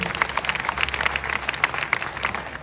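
An audience claps in a hall after a speech, giving brisk, dense applause of many hands that holds steady throughout the short stretch without voices over it.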